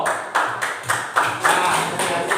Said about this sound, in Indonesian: Tepuk tangan buat Rido.